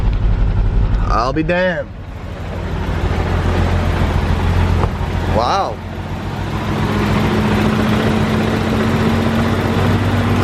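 A high-mileage BMW E34 M5 engine with about 335,000 miles idles steadily with a low, even rumble after starting, while a man exclaims in surprise over it.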